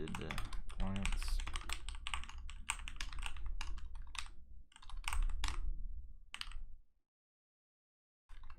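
Rapid keystrokes clatter on a computer keyboard while coding a Roblox game, dense close clicks in quick bursts that stop abruptly near the end before resuming briefly, with a man muttering over the typing.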